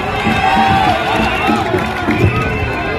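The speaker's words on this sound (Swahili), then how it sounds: "mpeni makofi" A crowd at a live outdoor event in Kenya applauds for a disabled child, a brief loud burst of clapping and cheering mixed with voices and shouts.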